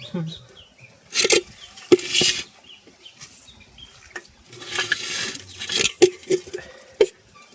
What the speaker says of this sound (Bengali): এই দেখো কিভাবে লাফালাফি করছে, ভয় লাগছে কই মাছগুলোকে দেখে।